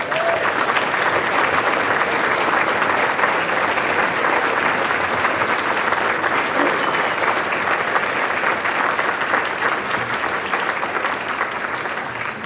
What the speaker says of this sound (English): Please hold your applause until I say all three.